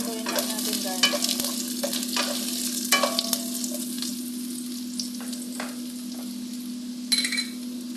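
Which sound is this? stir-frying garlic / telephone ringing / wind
stir-frying garlic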